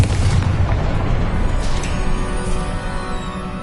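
A loud magical blast from the Confringo explosion spell in a wizard video game booms at the start, then a sustained rumbling roar carries on steadily without any voices.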